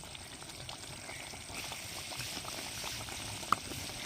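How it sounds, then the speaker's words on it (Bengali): A pot of jackfruit curry for a malai curry bubbles at a gentle simmer as a little ghee is added from above, a soft continuous boil with one small clink near the end. "এঁচড়গুলো আমাদের সেদ্ধ হয়ে গেছে এবার আমি দিয়ে দিচ্ছি ওপর থেকে সামান্য একটু ঘি"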